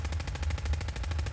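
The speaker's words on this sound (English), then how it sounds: "more gunfire erupted from the other side of the room" Rapid automatic weapon fire in an audio drama, a continuous rattling stream of evenly spaced loud shots with no pauses.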